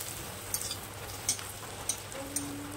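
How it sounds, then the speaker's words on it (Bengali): Papad fries in hot oil as a soft, continuous sizzle, with a few sharp ticks scattered through it and a faint hum entering near the end, quiet and without talk. "পাঁপড় ভাজা হয়ে গেছে"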